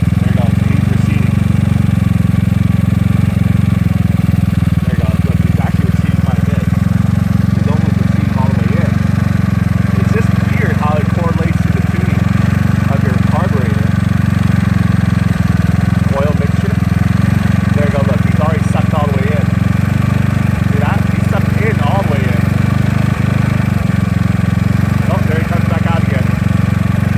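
A GY6 scooter engine fitted with an OKO PWK 30mm carburetor and NCY decompression tube runs steadily, a loud continuous drone close by with constant mechanical rattle throughout.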